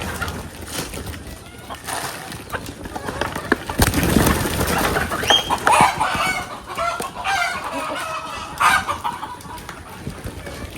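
Layer hens in a poultry farm shed cluck and chatter continuously at feeding time, a dense, lively flock sound with occasional louder squawks and a rooster-like call, close to the listener, with no clear talk.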